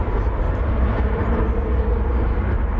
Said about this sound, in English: Or it could just be a plane on a 9-mile final.